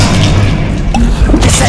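A loud, heavy blast from the Bombarda spell in Hogwarts Legacy, one booming explosion that fills the clip, with a crashing rumble and debris noise over a constant low roar.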